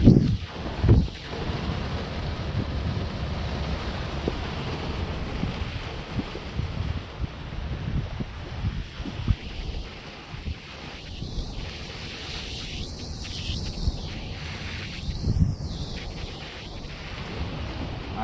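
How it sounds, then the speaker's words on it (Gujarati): Wind-driven rain is heard from inside a van with the window slightly open, a loud, steady rush and patter with occasional gusts and no clear speech. "આજે હું પવન સાથે વરસાદ"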